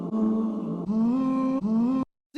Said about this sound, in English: the first effect I have here is this overdrive